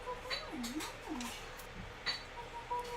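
Soft, high kitten mews from the video game Open Roads, a few short rising-and-falling cries over a faint game background, with a voice speaking briefly in between.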